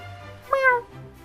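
A single short cat meow from the role-playing game Dragon Quest II HD-2D rises clearly over a quiet background, brief and close.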